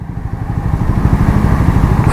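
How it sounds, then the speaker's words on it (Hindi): A Triumph Speed 400 motorcycle engine idles at a steady RPM, giving a loud, close, even low-pitched thrum with a regular pulsing beat and no talking. "अभी देखो इसकी आवाज़, इंजन की जो आरपीएम है स्टेबल है।"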